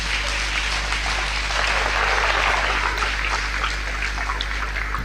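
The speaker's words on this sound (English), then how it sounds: "can you give yourself a resounding applause?" Applause from the audience at a JCI Nigeria awards event, a loud, full crowd clapping that swells slightly mid-way and continues steadily, with a constant low hum underneath.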